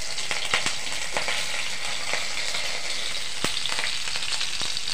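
Cumin seeds and chili frying in hot oil give a steady, continuous sizzle with scattered crackles and pops. It sounds close and fairly loud, with no voices.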